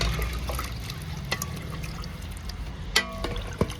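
Raw chicken pieces being rinsed clean in a Kerala home kitchen, with water trickling and pouring steadily over them and a few sharp clinks and splashes near the end.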